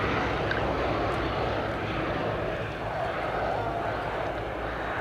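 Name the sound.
Westland Lysander aircraft engine at Duxford airshow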